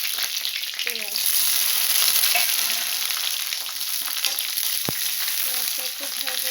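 Onions with bay leaves frying in oil in a pan after mushrooms and potatoes, giving a steady, close hiss of sizzling with occasional stirring clinks, and no talk.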